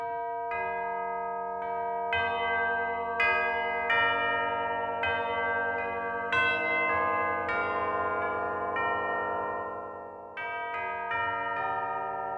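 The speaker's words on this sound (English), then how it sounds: "Tubular bells." Tubular bells ring out in a series of clear, sustained strikes, each tone overlapping and lingering as new notes sound over the decaying ones.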